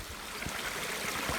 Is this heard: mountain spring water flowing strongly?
yes